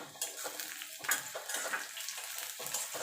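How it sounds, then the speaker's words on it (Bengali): Chopped onion frying in a pan for a Bengali borboti (yardlong bean) bhorta: a continuous sizzle with scattered scrapes and stirring clinks, moderately close and steady throughout, with no voices. "এবার পেঁয়াজটাকে একটু লাল লাল করে ভেজে নেব"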